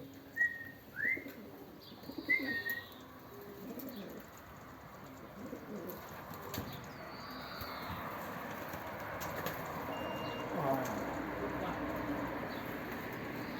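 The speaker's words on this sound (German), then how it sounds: "jetzt kommt die 5. Taube" A racing pigeon arrives at its loft during the tenth race of the season, with bursts of wing flapping and a few close coos and chirps at first, then a steady outdoor background of other birds.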